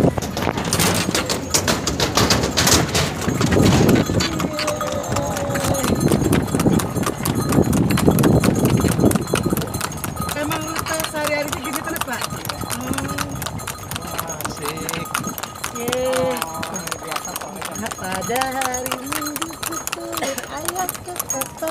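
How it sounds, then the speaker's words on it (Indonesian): Horse hooves clip-clop steadily while pulling a delman carriage in a city park, a brisk, close, continuous rhythm under people talking and chatting. "Tuh kudanya, lihat tuh."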